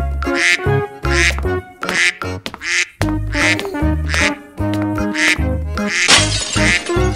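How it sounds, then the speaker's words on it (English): Loud duck quacks in a rapid, choppy series, close by, with bright harsh calls and some clattering breaks between them. "duck."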